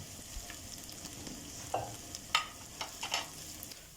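Ginger garlic paste frying with whole spices, cumin and half-browned onion in a pan for aloo matar, a soft continuous sizzle broken by several louder stirring scrapes and spatters, no voices.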